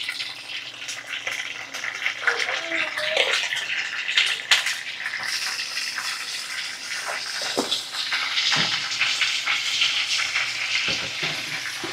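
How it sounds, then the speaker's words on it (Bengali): Prawns (golda chingri, giant freshwater prawns) frying in hot oil, a steady close crackling sizzle with bursts of spitting across the whole stretch, no voices. "আমি তেলটা গরম হয়ে গেছে, আমি দিয়ে দিলাম তেলের মধ্যে চিংড়ি মাছগুলো"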